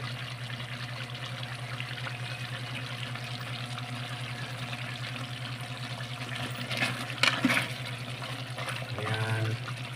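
A little water is poured into pork humba as it cooks, a soft steady trickle over a low constant hum, with a brief louder splash and clatter near the end.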